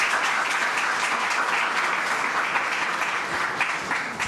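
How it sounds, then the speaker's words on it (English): An audience at a public presentation breaks into a round of applause, continuous even clapping that holds steady at moderate loudness and tapers slightly at the end, with no voices over it. "Let's give them a round of applause."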